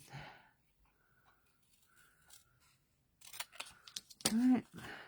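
Scissors snipping through embossed craft cardstock, a few soft close cuts in the quiet stretch, then a voice talking over further clipping noises.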